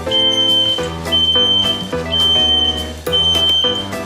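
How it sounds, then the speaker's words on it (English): An LP gas detector in a 2021 Heartland Landmark 365 Newport RV sounds its test alarm: loud, high-pitched beeps repeat in a steady on-off pattern, about four in four seconds, over a dense harmonic hum. "this is an LP gas detector. Simply push. You push that daily to make sure it's operating properly."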